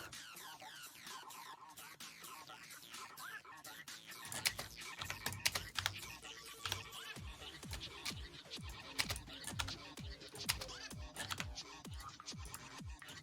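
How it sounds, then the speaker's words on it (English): Rapid, uneven clatter of computer keyboard keys being pressed hard and fast, close to the microphone, with bursts of clicks over a low background. "You might be hearing my keyboard as I madly smash me buttons."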